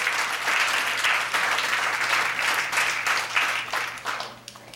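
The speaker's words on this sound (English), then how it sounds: "Round of applause." A room of people gives a round of applause at a hackathon winners' announcement, dense steady clapping that holds for several seconds and then tapers off.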